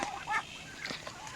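A few quick, nasal quacks and honks from a small flock of Peking ducks at moderate distance, short and scattered.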